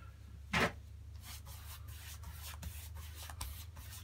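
A brush lays a second coat of Leyland Trade acrylic primer undercoat onto plywood, giving faint, soft rubbing strokes with one brief louder scrape early on, then quieter sweeps.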